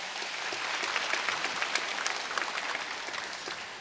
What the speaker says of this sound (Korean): 박수 좀 칠까요?